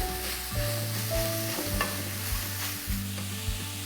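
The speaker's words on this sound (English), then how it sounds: "Give it a nice stir." Garlic and root vegetables frying in a pan as they are stirred, with a steady close sizzle broken by scraping strokes of the spoon at a regular pace, no voices.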